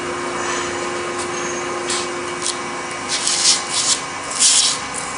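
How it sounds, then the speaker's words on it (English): An 8-inch floor razor scraper shaves overfilled repair material flat, giving a steady close rasping scrape with stronger strokes toward the end. "we're going to try shaving it. We're using our 8-inch floor razor scraper."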